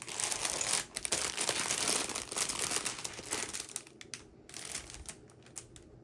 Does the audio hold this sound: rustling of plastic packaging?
yes